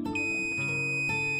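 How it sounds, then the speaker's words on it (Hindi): A multimeter on continuity test across a shorted MOSFET in an inverter welding machine gives a steady, unbroken high-pitched beep over faint background hum, with no talking. "इसका रीडिंग जीरो बता दे रहा है और बीप भी आ रहा है"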